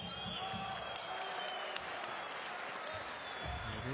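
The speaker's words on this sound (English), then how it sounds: "The reaction of the crowd tells you exactly what the decision was that time." Basketball arena crowd at a FIBA World Cup European qualifier between Ukraine and Spain, reacting to a referee's call, a dense steady roar of many voices with scattered shouts and whistles, continuous and loud throughout.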